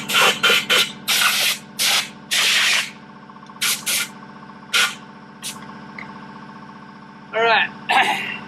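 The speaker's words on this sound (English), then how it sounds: "Spray some brake clean down in there." Short bursts of brake cleaner sprayed down into a YZ450F motorcycle fork cartridge, several hissing blasts of varying length, close and loud, over a steady background hum.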